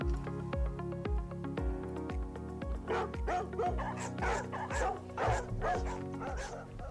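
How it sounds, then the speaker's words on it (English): Several dogs barking repeatedly and loudly in a rapid, steady rhythm, with yips and overlapping calls building up as more dogs join in, close and continuous. "Who doesn't like some dogs barking"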